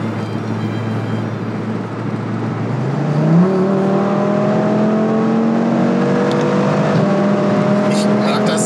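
Powerful 560 PS Audi RS3 engine accelerating hard, its note rising steadily through successive gear shifts, sustained and close, with a voice heard alongside the engine.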